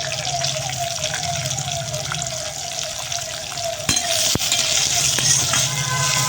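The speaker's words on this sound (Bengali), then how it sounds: "পেঁয়াজটাকে একটু লাল লাল করে ভেজে নেব" Chopped onions frying in a pan for a mushroom dal, a continuous close sizzle with stirring clinks and a sharp utensil knock, growing slightly louder toward the end.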